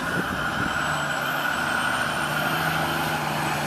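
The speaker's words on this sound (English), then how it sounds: "One fire truck." A fire truck passes in the background during a stop near a store parking area, its engine a steady rumble that holds across the whole stretch at moderate level, with faint high tones above it and no talk.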